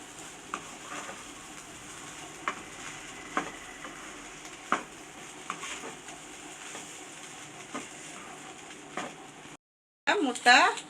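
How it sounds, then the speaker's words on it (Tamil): A spoon stirs cooked rice through an egg and cabbage fry in a pan, giving steady scraping with repeated sharp scrapes and a soft sizzle, close and fairly quiet. "இப்போ இதை நல்லா நம்ம கிளறி விட்டுக்கலாம்"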